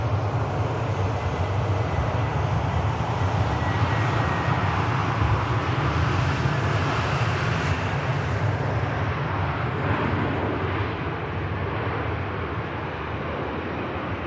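An EasyJet airliner touching down at Manchester Airport on a rainy day gives a steady, loud, broadband roar of engines and rushing air that holds throughout, with low rumble underneath and a slight fade toward the end.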